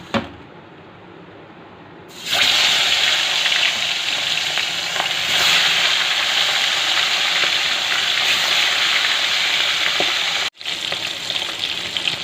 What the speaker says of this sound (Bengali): এবার আমি এক এক করে মাছ দিয়ে মাছগুলো ভেজে নেব।